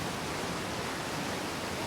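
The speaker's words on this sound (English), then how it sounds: "I can't hear this because of the waterfall." A roaring waterfall in the video game Outer Wilds, a steady broadband rush of falling water, loud and close, holding level for the whole stretch with no other sounds.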